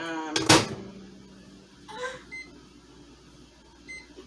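A microwave oven door clunks shut, followed by a few short electronic beeps from its keypad, with quiet room noise between them.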